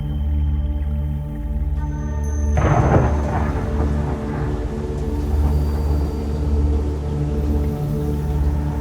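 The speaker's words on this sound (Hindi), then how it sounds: "अचानक समुद्र में एक बहुत ही भयंकर समुद्री तूफान उठा" A violent thunderclap splits a storm at sea in an animated story, crashing in suddenly over a sustained musical drone and then rolling on as a long, heavy rumble.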